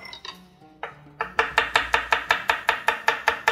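A knife chops garlic cloves into small pieces on a cutting board, a quick steady run of about a dozen crisp close knocks after a few softer scraping taps.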